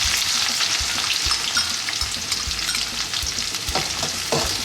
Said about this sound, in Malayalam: കടുക് പൊട്ടിയതിന് ശേഷം നമുക്ക് സവാളയും വറ്റൽമുളകും നമ്മൾ ഇതിനകത്തേക്ക് ചേർക്കാം